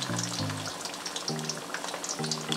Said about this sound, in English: when we finish frying, I'll get back to you